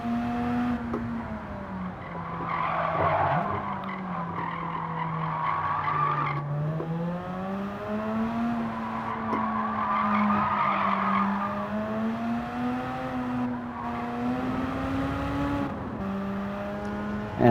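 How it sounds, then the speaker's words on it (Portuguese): Rotary-engined race car in Gran Turismo 7 screams under steady load, its high droning pitch rising and falling through gear changes alongside continuous tire skidding and squeal, loud and close throughout. "motor rotativo é muito bom de escutar, cara."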